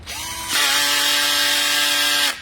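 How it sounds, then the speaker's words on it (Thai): BKK 85V cordless impact drill runs in screw-driving mode, a steady high whine that starts abruptly, holds loud and even for about two seconds, then cuts off, heard alone. "อันแรกก็จะเป็นระบบยิงสกูนะครับ"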